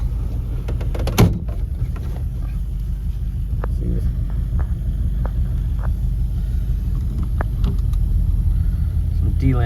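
A 1957 Ford Fairlane 500 rumbles along on a cruise, its engine a steady low drone heard from inside the car, with a sharp knock near the start and faint clicks and rattles throughout.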